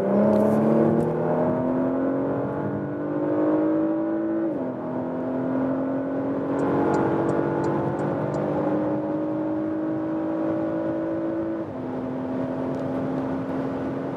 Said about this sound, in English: So the more I hit the throttle, the more power is also transported then to the front wheels